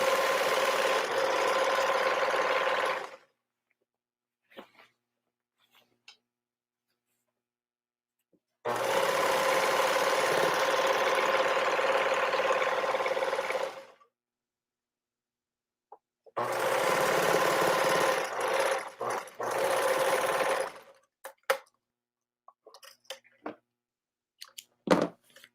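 A sewing machine stitches men's shirt pieces together in three long steady whirring bursts separated by quiet pauses with faint handling clicks, close by and alone.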